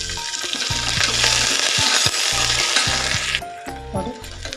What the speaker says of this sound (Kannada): ಕಡಲೆಬೇಳೆ, ಆಮೇಲೆ ಇದನ್ನು ಸ್ವಲ್ಪ ಫ್ರೈ ಮಾಡ್ಕೊಳ್ಳೋಣ. ಹಾಗೆ ಈರುಳ್ಳಿ ಮತ್ತು ಕರಿಬೇವಿನ ಸೊಪ್ಪನ್ನು ಸಹ ಹಾಕೋಣ.